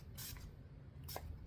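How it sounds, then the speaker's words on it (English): Makeup setting spray mists onto a face in two short, soft hissing bursts, quiet and close, with no speech. "we're going to spray the face right now"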